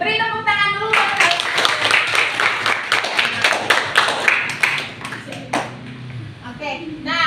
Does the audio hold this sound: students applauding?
yes